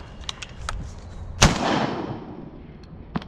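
A single sharp shotgun blast cracks during a mallard duck hunt at a Soaperton, Georgia preserve, ringing out with a long decaying echo over faint background noise and a few small knocks.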